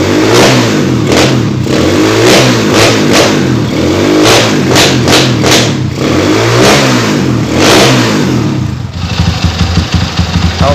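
Honda Tiger motorcycle engine being revved after a pickup pulser swap with a Megapro CDI, repeated loud throttle blips rising and falling over a rough idle, recorded close and without talk.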